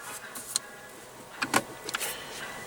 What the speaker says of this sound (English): Automatic driver's side window.